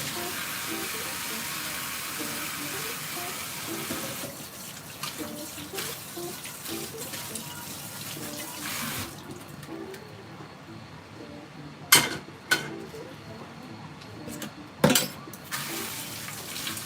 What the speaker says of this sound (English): So what you want to do is to wash the pan first